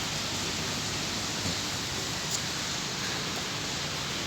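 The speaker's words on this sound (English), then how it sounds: "it is raining." Rain pours steadily on Christmas Eve as a continuous, even hiss, with no distinct drops or thunder standing out.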